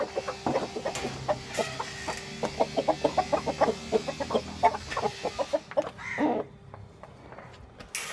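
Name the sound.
chickens clucking in a chicken coop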